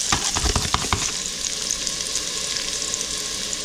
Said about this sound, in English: We're going to saute them a few minutes. Can you hear the sizzle?